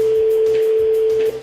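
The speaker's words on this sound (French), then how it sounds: "Deuxième sonnerie." A telephone ringback tone on a call: a single steady, loud tone holds for over a second and then stops, with faint background noise around it.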